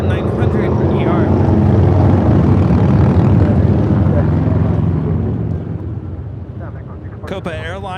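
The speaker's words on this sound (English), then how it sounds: "This is Alaska Airlines 1348 taking off to Puerto Vallarta on" An Alaska Airlines Boeing 737-900ER jet roars loudly on takeoff at LAX, a steady, dense engine rumble that fades slightly toward the end, with a voice talking over it.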